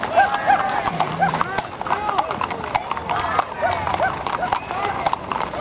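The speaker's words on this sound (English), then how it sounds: "Wow, Papa, look at the horses." Horses clip-clopping nearby in an uneven rhythm of hoof beats during the Orange County Fair cattle drive, with a whinny and people chattering over them.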